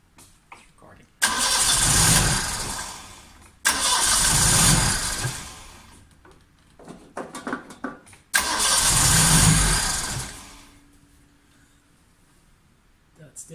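A Vauxhall Chevette car engine being revived cranks and fires in three loud bursts of starting and running, separated by quieter gaps with brief sputters, close to the listener.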